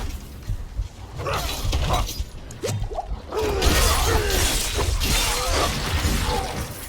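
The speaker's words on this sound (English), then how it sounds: "You can hit a red barrel, you know, or an explosive barrel." An explosive barrel bursts in the action game Diablo IV with a loud, shattering crash and a scatter of debris, followed by sustained combat noise and crackling effects.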